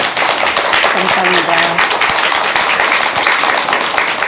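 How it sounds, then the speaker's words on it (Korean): Audience applause after a call for a warm round of clapping at a Korean talk event honoring a modern dance director, dense steady clapping throughout, with a brief spoken thanks over it. "뜨거운 박수 한번 부탁드리겠습니다"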